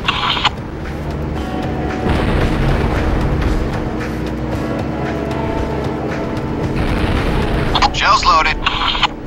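In the Syphon Filter: Logan's Shadow video game, a tank's main gun cannon fires, and heavy, loud booming rumbles fill most of the stretch, ending in a sharper burst near the close.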